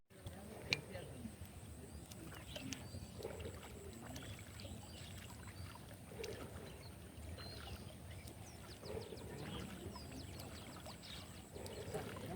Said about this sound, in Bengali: তো অনেকগুলা হাঁস খালের ভিতরে ঝাপাঝাপি করে এখন